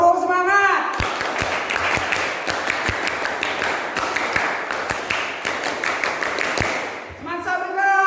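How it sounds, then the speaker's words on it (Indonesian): A school class of students performs a rhythmic spirit clap, a fast run of sharp group claps in a patterned beat, with voices shouting and chanting before and after. "Tepuk semangat!"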